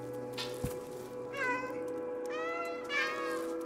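Cat meowing in the video game Stray, several drawn-out meows in a row over a steady background hum of game ambience, clear and fairly close.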